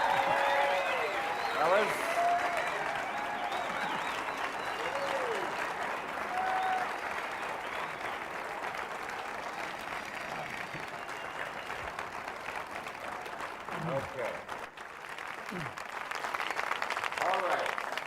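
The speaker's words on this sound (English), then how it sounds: "A very well-deserved round of applause." Sustained applause fills a comedy festival theater as a group of performers come out, with cheers rising and falling and a voice briefly speaking over the clapping near the end.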